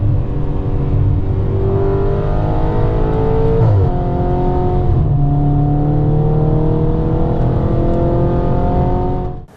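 An Audi car drives steadily on the road in winter, its engine a loud, continuous hum with shifting tones as it changes pace, ending with a brief drop at the close.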